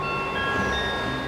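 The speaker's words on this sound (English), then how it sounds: "he'd catch the last underground train and sleep in a" A London Underground train carriage rumbling steadily along, with a continuous close roar and faint high whining tones over the din, alone with no voices.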